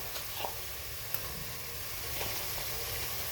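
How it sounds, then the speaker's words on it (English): Meat frying in a pan among tomatoes for a spinach and meat dish gives a steady, close sizzle with a few small pops and clicks. "Then I'll add my meat here at the middle"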